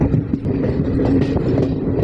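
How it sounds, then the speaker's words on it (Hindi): The 01197 Poorna Express passenger train rolls along the Konkan railway line from Miraj toward Mangaluru near Dudhsagar, heard from on board as a loud, steady rumble with soft rhythmic wheel clatter. "तो यहाँ से अपनी ट्रेन ऊपर नहीं चढ़ेगी, नीचे उतरेगी दूध सागर वाटरफॉल पर जाने के लिए।"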